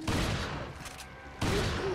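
Shotgun blasts against cultists in Resident Evil 4: two loud, close, roaring bursts of gunfire separated by a brief quieter gap, with no talking.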